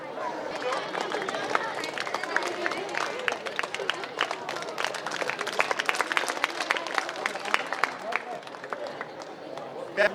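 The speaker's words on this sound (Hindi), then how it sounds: "सभी एल्यूमिनी से भी मैं निवेदन करूंगा सर का एक बार जोरदार तालियों से स्वागत करें।" An alumni meet audience at a school gives enthusiastic applause to welcome a teacher, sharp, dense claps rippling on steadily for several seconds amid crowd chatter and murmuring voices.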